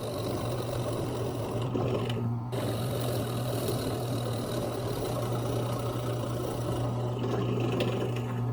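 Router mounted in a table cutting mortises into pallet wood, a continuous high-pitched motor whine with rough cutting noise, loud and close, briefly dipping once before resuming steadily.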